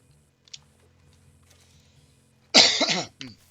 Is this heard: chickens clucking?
no